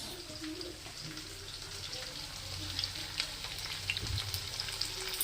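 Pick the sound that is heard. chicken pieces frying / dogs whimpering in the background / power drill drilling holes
chicken pieces frying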